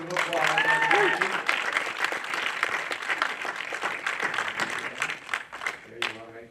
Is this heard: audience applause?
yes